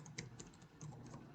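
Keys clatter on a computer keyboard while a web address is entered into a new browser tab, a quick uneven run of close, quiet clicks with no talking.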